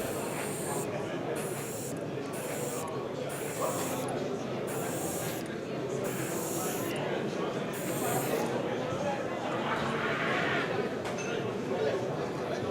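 Short hissing bursts of a spray can of acrylic water-based varnish fire in an irregular sequence, each lasting about half a second, close by over a low background hum.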